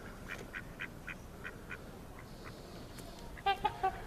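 Ducks at a bird sanctuary quack in a series of short, evenly spaced calls at moderate distance, then a louder burst of three quacks closer by, over a faint outdoor background.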